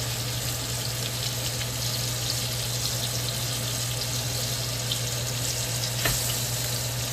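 USDA Prime beef ribeye cap steak, cooked sous vide first, sizzles steadily in a hot pan, a dense, continuous frying hiss with no talk and one brief clank near the end.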